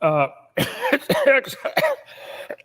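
A harsh cough or two, close to the microphone, followed by a few more throaty bursts and breathy sounds.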